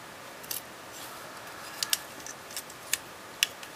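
Leatherman Charge TTi multi-tool scissors click and snip quietly several times, crisp metallic ticks spaced irregularly over a faint background hiss.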